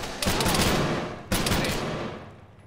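Two bursts of rapid gunfire in a video game, each starting sharply and fading over about a second, with no speech heard.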